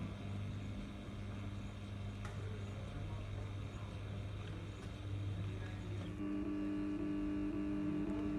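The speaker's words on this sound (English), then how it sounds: "Now motor 1 is closed completely and motor 2 started closing." A 230V AC swing gate motor driven by a Nice MC800 control unit runs while closing, a steady low electric hum and whine that shifts to a brighter tone partway through as the second motor takes over.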